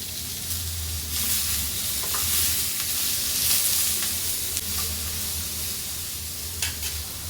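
Spices, chopped tomato, coriander stems and leaves, and a few curry leaves roasting in a hot pan, a steady broad sizzle running throughout with faint scraping stirs and small crackles, no talking.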